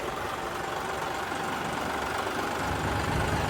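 Many tractors' engines run together at a protest rally near a district commissioner's office, a steady dense rumble of idling and revving engines that holds at an even, fairly loud level throughout with no talk.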